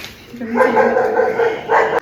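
Dogs near a house bark and yelp in close, loud, whining bursts that run for a couple of seconds, with tonal cries rising and falling.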